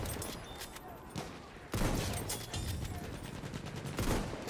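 Sustained bursts of automatic gunfire in the shooter Battlefield 6, a loud continuous fusillade with sharp overlapping shots, rising in intensity partway through and staying busy to the end.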